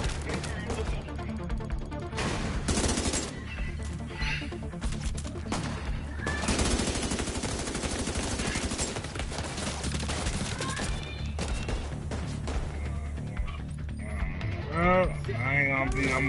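Repeated bursts of gunfire crack out over a long stretch, some sharp single shots and some rapid clusters, with people talking intermittently between and over them.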